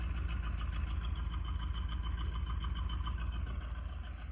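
A C3 Corvette engine idles steadily up close, a continuous low rumble with a slight rhythmic knock and no voices.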